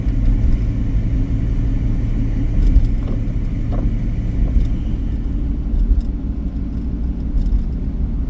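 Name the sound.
car driving in a winter snow storm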